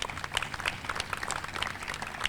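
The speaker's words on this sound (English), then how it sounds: "Please give them a round of applause." An audience applauds the police and fire departments at a Mayor for the Day event in Waterbury, Connecticut; a steady, fairly faint wash of clapping fills the whole stretch without pause.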